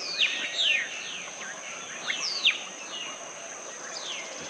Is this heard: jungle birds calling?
yes